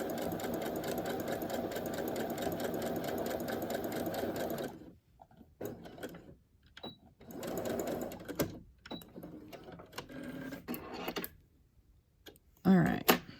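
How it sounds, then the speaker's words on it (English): Sewing machine stitching cover fabric for winter journals, pins left in so the needle runs over them; a steady, close mechanical whir for about five seconds, then shorter bursts of stitching broken by pauses and small handling noises. "machine will go over the needles themselves without crunching them."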